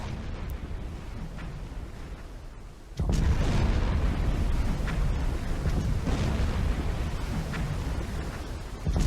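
Torpedoes strike a ship in the submarine game Silent Hunter 4, a low rumbling roar that suddenly surges into a heavy sustained booming blast and keeps rolling loudly to the end, with no voices.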